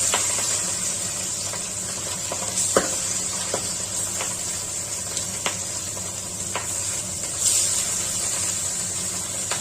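Rohu fish rubbed with salt and turmeric frying in hot oil over a high flame, giving a steady close sizzle with scattered sharp pops and crackles and no voices.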